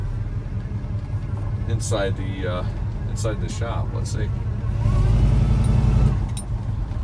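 The engine of a 1983 Chevy K10 truck idles and rumbles low and steady, swelling briefly as it drives, while someone talks over it.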